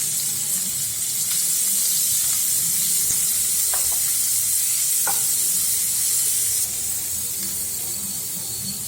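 Onions sautéing in a pan for paneer and egg bhurji, a loud continuous sizzle and hiss with occasional spatula scrapes, close and without talk.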